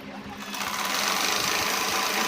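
Sewing machine stitching a seam on a ladies' pant, a steady close mechanical whir that rises after a soft start and runs continuously to the end.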